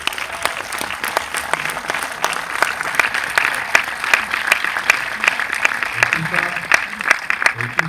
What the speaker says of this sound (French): Claude mérite vraiment un applaudissement de tout cœur